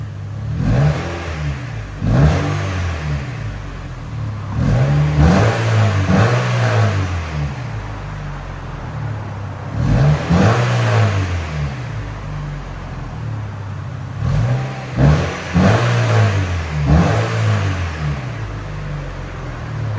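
A 1997 VW Golf GTI 16V with a muffler delete revs up close, several sharp throttle blips swelling and dropping back to a rumbling idle, loud and raspy with no talking.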